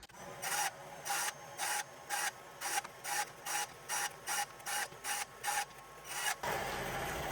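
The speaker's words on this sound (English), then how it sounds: "I figured I'd try cutting them on the bandsaw in bulk" A bandsaw slices through stacked cardboard window jambs in a quick run of about fourteen short, evenly spaced buzzing cuts, then the blade keeps running in one loud continuous whine.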